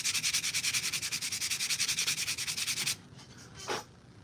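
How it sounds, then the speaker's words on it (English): Rhythmic back-and-forth sanding strokes on 3D-printed armor parts, fast and steady, scratch loudly for a few seconds, then stop, followed by a single softer rub. "sanding and rinsing each of these prints after each of these steps"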